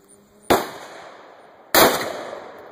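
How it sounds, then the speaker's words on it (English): Two loud, sharp gunshots from a Ruger Alaskan revolver firing 300 grain XTP loads, spaced about a second apart outdoors, each a hard crack followed by a ringing decay. "He's shooting the same 300 grain XTP. They kick pretty hard."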